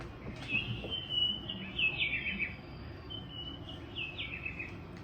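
An alarm clock plays bright electronic bird chirps that repeat in short trilling bursts, steady and close, over a soft hiss with no talking.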